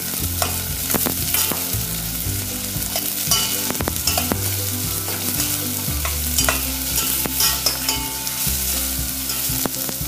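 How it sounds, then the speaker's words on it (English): Shredded vegetables and thin pepper slices tossed in a hot pan for Gobi 65 in schezwan curry: a loud, steady sizzle of frying with frequent clattering stir-and-toss scrapes, close and without speech. "All the vegetables are shredded. So just toss it up again for around a minute."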